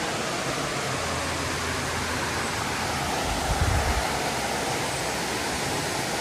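Water flowing below a garden in Madeira gives a steady, broadband rushing wash throughout. A brief louder low surge comes near the middle. No voices are present.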